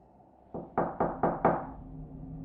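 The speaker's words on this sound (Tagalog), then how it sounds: "nakakatatlong katok na ako" Four firm knocks land on a hotel room door at an even pace, each one sharp and close, and then the knocking stops into quiet.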